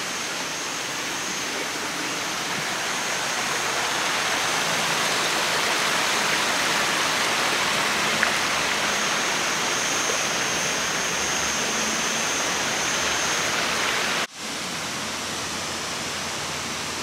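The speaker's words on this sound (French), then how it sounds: "Une petite cascade." A small waterfall near Alicante, Spain, rushes in a constant broadband hiss, close and steady throughout, with a brief dropout near the end and no talking.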